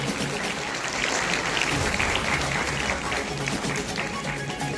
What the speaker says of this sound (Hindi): तालियां जोरदार बजें